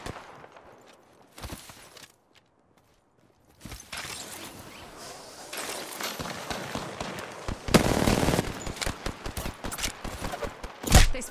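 Rapid gunfire in the battle royale shooter Apex Legends, bursts of sharp shots that start sparse and then thicken into dense, loud volleys with short gaps between them.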